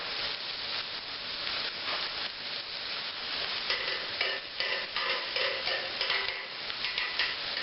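Vegetables with purple pepper sauté on a grill pan beside portabella mushrooms and eggplant, a soft, even sizzle with light clicks and scrapes from stirring, moderately close and fairly quiet, no voices.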